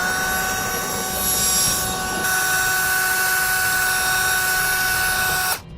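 A power drill enlarges a hole in a steel vehicle frame to half an inch while fitting a rear anti-sway bar bracket, giving a steady, loud whine that runs continuously and then cuts off abruptly at the end.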